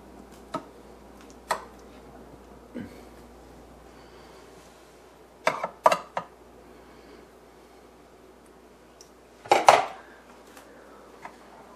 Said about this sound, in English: take a spoon and press the mixture further into the cup